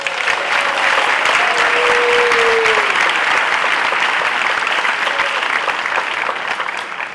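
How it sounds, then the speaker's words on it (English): A large audience at a college chancellor's opening session applauds an award recipient, loud continuous clapping from many hands, with a brief faint tone partway through and no speech. "applaud your heart out"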